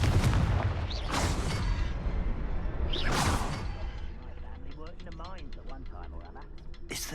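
Fiery Confringo spell cast in Hogwarts Legacy: loud bursting blasts with whooshes over a dense game soundscape, followed by crackling lighter bursts, alone without talk.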